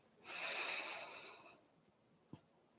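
A single soft, close breath drawn in through the nose during seated chair yoga, followed by quiet and then a faint click.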